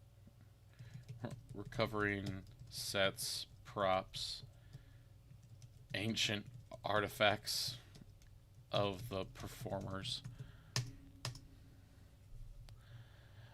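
Computer keyboard typing comes in bursts of quick clicky keystrokes, fairly close, broken by pauses, with someone talking quietly over and between the clatter.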